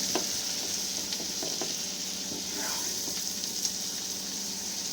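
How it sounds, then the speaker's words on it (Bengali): Paneer cubes frying in oil in a pan, a soft continuous sizzle with occasional light taps and stirring scrapes, moderately quiet and close with no voices. "হালকা একটু ভালো করে লাল লাল করে একটু ভেজে নেবো পনিরগুলো"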